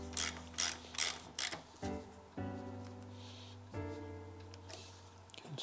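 Part of an RM Suttner ST2000 wash gun being clamped in a vise, a few quick ratcheting clicks followed by rasping, creaking turns of the vise handle as the jaws tighten, close and fairly quiet.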